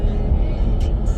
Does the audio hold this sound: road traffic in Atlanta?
yes